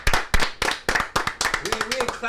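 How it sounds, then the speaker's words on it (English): An audience at a bar show claps in loose, uneven bursts, close and fairly loud, while a person keeps talking over the clapping. "Let's clap it up for Cole Kane Simpson."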